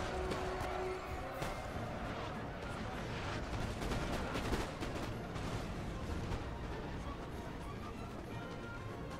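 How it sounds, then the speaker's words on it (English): Musket volleys rattle through a Napoleon: Total War battle against German fusiliers, a dense continuous crackle of massed fire and distant booms under steady battlefield din, with someone talking over it. "fire on the German fusiliers"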